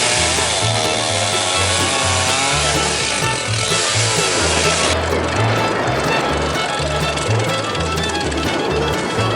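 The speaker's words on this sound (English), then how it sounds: "Peanut, the big trees that Grampys is cutting up for firewood are" Big trees being cut up for firewood with a saw, most likely a chainsaw. A loud, continuous buzzing roar runs close up for the whole stretch without pause, and no one talks.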